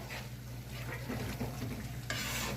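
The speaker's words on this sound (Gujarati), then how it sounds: "તમારે કોન્સ્ટન્ટ હલાવતા રહેવાનું, નહીંતર વ્હાઈટ ગ્રેવી ચોંટી જાય બોટમમાં" A spoon stirs white gravy with fried fenugreek and sugar as it sautés in a pan, giving a quiet, steady sizzle with soft scraping strokes and no talking.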